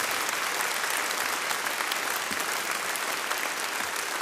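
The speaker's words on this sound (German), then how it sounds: "Das ist, glaube ich, Applaus wert." An audience at a folk music gathering applauds a company that trains young people, a dense, even wash of many hands clapping at a constant level with no pauses.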